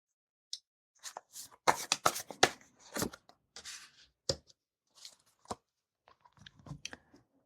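Cards shuffled and drawn for a reading: close, soft riffling and snapping card sounds in irregular bursts with short pauses between, fairly quiet and alone.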